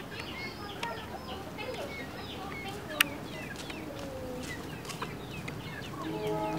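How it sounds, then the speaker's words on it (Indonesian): A hen clucking softly while pecking at mango outdoors, faint scattered clucks and chirps over a low ambient hiss, with one sharp click in the middle. "Itu ada ayam makan mangga,"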